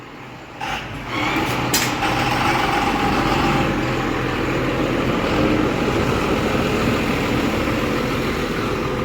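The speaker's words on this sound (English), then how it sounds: "Rickety old diesel." A rickety old diesel truck idles with a steady, low rumbling drone that is moderately loud and continuous throughout. A brief clatter is heard near the start.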